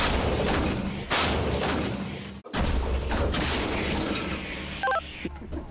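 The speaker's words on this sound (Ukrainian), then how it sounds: "Давай, Віталік, гармата. Постріл." A loud, heavy blast from an M109 155 mm howitzer with a sudden onset, followed by a long rumbling roar and some brief electronic beeps near the end.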